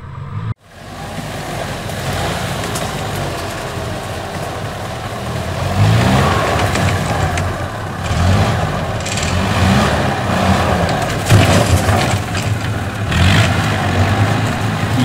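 A NSU Kettenkrad HK 101 half-track motorcycle from the Wehrmacht clambering over a tree trunk outdoors, its engine droning loudly and steadily with surges of revving and rumbling, no voices.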